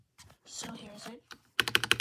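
Keys clack on a Langtu LT84 mechanical keyboard in a quick run of sharp, close taps at the end, with someone talking just before.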